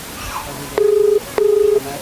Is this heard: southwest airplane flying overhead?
no